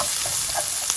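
Grated garlic hits a frying pan of softening vegetables for a shakshuka cheese bake and sizzles at once. A dense, bright hiss sits close and steady with faint crackles through the short moment, with no voices.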